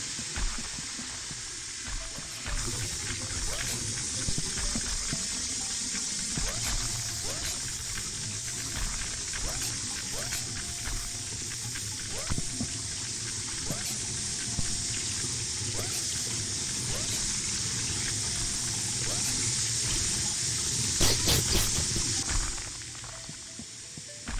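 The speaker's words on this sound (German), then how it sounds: "Wasser." Steady running water in the puzzle game Horace, a continuous hissing stream that holds throughout under faint background sounds and a few soft clicks.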